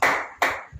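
A church congregation claps hands together during a Tamil sermon, two short loud bursts of applause in quick succession, each fading out, followed by a few soft low thumps.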